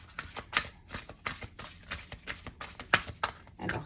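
Tarot cards being shuffled for a weekly reading, a run of quick riffling bursts and soft slaps in an uneven rhythm, close and fairly quiet.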